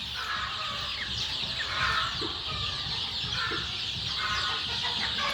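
Chicks and hens in a poultry coop cluck and cheep continuously, a busy overlapping chorus at moderate distance with no voices over it.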